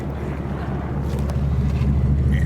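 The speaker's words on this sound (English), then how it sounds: "Let me get an exhaust note." Low exhaust rumble from a 1949 Mercury convertible, heard from just behind the car as a steady, deep throb with buzzy harmonics, partly blurred by wind noise on the microphone over a short stretch.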